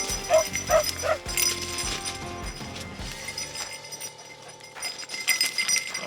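A hunting dog on a rabbit trail gives three quick, fairly close barks at the start, followed by quieter, scattered yelps and outdoor rustling.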